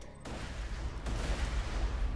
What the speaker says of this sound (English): Enjoy the explosions.